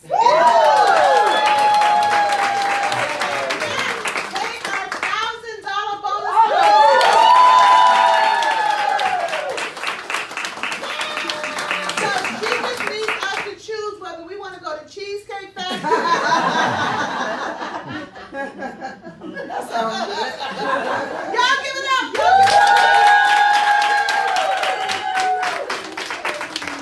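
A large audience claps and cheers at length for new team builders at a partner recognition event, the applause rising and falling with scattered laughter while an amplified voice speaks and sings over it.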